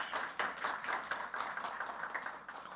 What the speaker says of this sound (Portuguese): recebam com aplausos o nosso convidado de hoje.